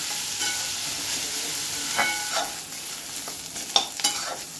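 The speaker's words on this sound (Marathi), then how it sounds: "कांदा आपला आता चांगला भाजला गेला आहे" Onions sizzle softly in a pan for a prawn masala, with a steady frying hiss and a few scraping stirs and clinks near the end, fairly quiet and without talk.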